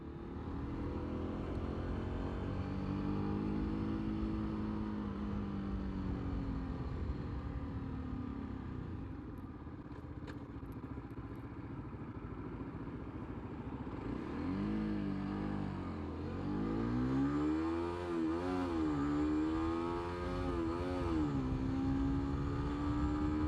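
A Suzuki motorcycle accelerating hard on the road, its engine note rising and falling through the gears with a sustained, droning revving that swells near the end, heard steadily from the rider's position.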